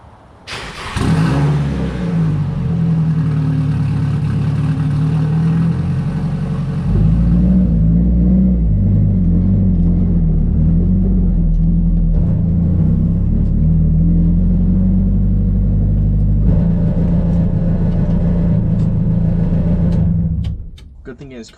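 A car engine, just back running after fuel injector replacement following a fuel rail leak, idles and revs loudly up close in a long, deep rumbling stretch, then cuts off near the end.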